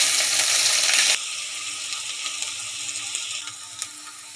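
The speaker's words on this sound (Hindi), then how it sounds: "अब इसी कढ़ाई के अंदर मैंने थोड़ा सा ऑयल शामिल किया है और इसमें लहसुन डालेंगे" Garlic hits hot oil in a wok with a loud hiss that drops after about a second, settling into a steady, gentle sizzle with small pops.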